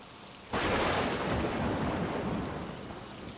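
Silence breaks into a sudden heavy roar of rain with a deep thunder rumble, the downpour loud and steady, slowly easing toward the end.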